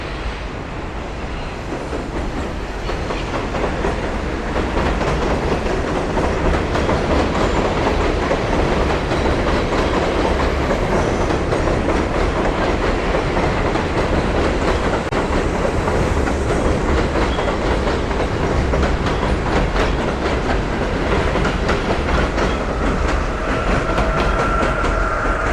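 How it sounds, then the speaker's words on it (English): A train rumbles past steadily on a Brooklyn elevated line over 86th Street, with loud continuous clattering of wheels on rails and a faint squeal toward the end, heard close from the street below. "Here comes a train."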